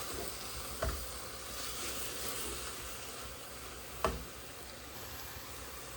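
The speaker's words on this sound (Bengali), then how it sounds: "ভালো করে এটাকে তেল দিয়ে ভেজে নিব" Soft, faint sizzle of vegetables frying in oil, a steady quiet crackle with two brief clicks from a utensil, no voices.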